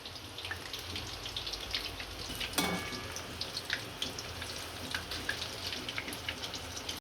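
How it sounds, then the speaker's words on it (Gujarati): Paneer kurkure frying in oil over a low flame gives a soft, steady crackle and bubbling that runs throughout, fairly quiet and close, with one brief sharper pop midway. "આ રીતે બધા તળી લેશું અને આપણે એકદમ ધીમે તાપે શેકી લેશું"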